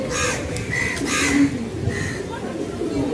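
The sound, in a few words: Bagha racing pigeon cooing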